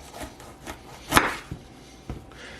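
A knife slicing through a bell pepper on a wooden cutting board, a few soft, separate cuts and thuds with one firmer chop in the middle, close and quiet.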